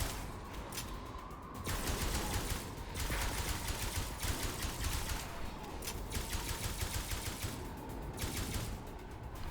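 Sustained automatic gunfire in the sci-fi video game Osiris: New Dawn, a dense continuous rattle of shots with brief shifts in intensity, loud and without speech.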